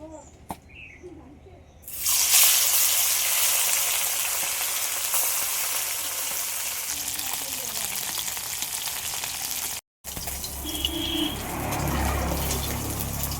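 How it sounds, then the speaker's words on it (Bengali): Gangmouti fish fries in hot oil in a home kitchen, a loud, steady sizzle that erupts suddenly and crackles continuously, with a brief pause near the end. "এবার আমি মাছটা ভেজে নেব"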